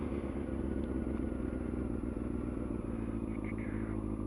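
A motorcycle rides over speed bumps, its steady engine drone close and loud throughout, with faint clattering and thuds from the bumps mixed into the continuous rumble.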